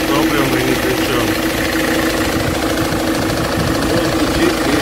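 Ford Transit engine idling with an unexplained knocking: a steady mid-pitched idle with a faint repeated knock runs throughout, close and loud, with someone speaking over it.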